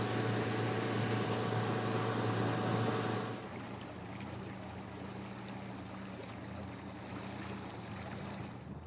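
A boat motors across Lac La Belle lake, which runs into Lake Superior, its engine loud and steady before dropping to a softer, continuous hum with wind and water noise.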